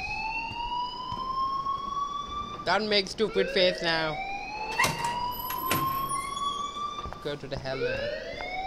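A loud, continuous rising electronic alarm wail in Life is Strange, sweeping steadily upward and filling the whole stretch while people talk over it.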